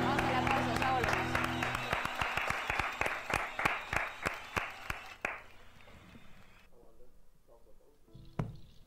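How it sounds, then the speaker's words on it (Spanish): A studio audience gives applause and then falls into slow, rhythmic unison clapping, each clap distinct and evenly spaced, before the sound drops away into quiet with a few stray noises and some talk. "Vamos al aplauso"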